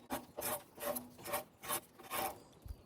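A small hand scraper rasps along a log as bark is stripped, making a steady series of close, rough scraping strokes roughly every half second.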